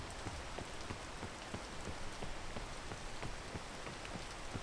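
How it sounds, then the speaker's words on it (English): Steady rain in the tropics in the video game PEAK, an even, dense patter of drops hitting surfaces, with no talking over it. "in the tropics, the rain makes it more slippery"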